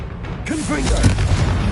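A Confringo blasting curse explodes in Hogwarts Legacy with a dull, muffled boom, followed by swirling magical whooshes and a creaking, ratcheting rumble. Brief, close and fairly loud, with a voice partly under it.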